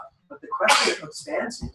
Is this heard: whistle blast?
no